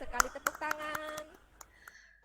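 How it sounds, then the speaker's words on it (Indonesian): A few sharp hand claps in a vocational high school classroom, sounding close and bright over a teacher's voice, then fading to quiet. "Tepat sekali, tepuk tangan."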